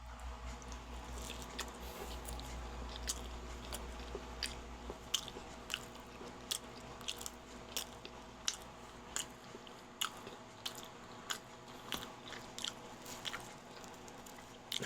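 Someone bites and chews pizza close to the microphone, with repeated soft crunches and squishy chewing in an irregular rhythm over a quiet room background, with no talking.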